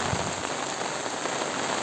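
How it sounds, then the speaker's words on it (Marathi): Steady monsoon rain falls in the Ashadha season, a dense, even patter on surfaces that continues without pause, moderately loud with no voices. "बघत राहा पाऊस, पाहत राहा पाऊस"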